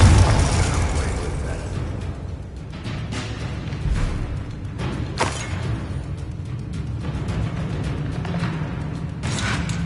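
A Confringo blast spell cast in the Hogwarts Legacy video game, with booming explosive bursts popping at intervals over a steady rumble of game action and effects.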